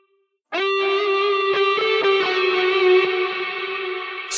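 A free VST reverb plugin washes over a sustained synth-like tone with a bright harmonic stack, loud and steady after a short silent start, leaving a long smeared tail with no dry delay repeats.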